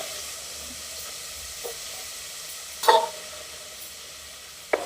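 Tamarind juice poured into a hot pan for pulihora, a soft steady sizzle and hiss underneath with a brief louder burst of sizzling and a sharp clink near the end.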